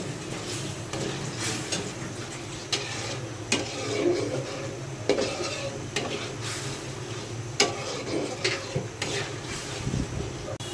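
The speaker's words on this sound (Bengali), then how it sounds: "এবার মশলাটা ভালোভাবে আমি কষাবো" A spice paste with chili and salt is sautéed in a pan, with intermittent scraping and stirring strokes over a faint, low sizzle, close by and fairly quiet.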